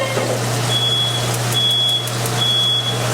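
Smoke alarm beeping in a kitchen, three high, piercing beeps in an evenly spaced rhythm over a steady low hum from a running fan, with no talk.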